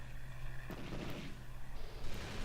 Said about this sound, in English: That's the main cannons.